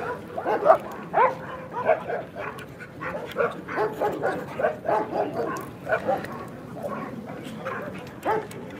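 Military rescue dogs, including an explosives-detection dog, bark, yip and whimper in quick overlapping bursts, fairly close and continuous throughout.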